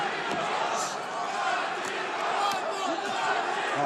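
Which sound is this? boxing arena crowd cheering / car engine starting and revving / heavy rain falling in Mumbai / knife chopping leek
boxing arena crowd cheering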